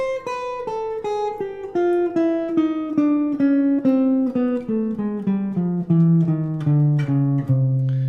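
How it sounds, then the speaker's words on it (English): A single instrument plays a descending bebop scale, separate notes each struck evenly, stepping down chromatically in a steady rhythm with no talking. "So the Bebop scale would sound like this."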